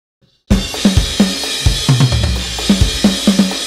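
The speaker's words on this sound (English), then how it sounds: "Then during the solo, they sound like this." Rock drum kit from Easy Drummer 3 as played under a guitar solo in a rock song: after a brief silence it bursts in with crashing cymbals and a pounding kick-snare groove, loud and alone.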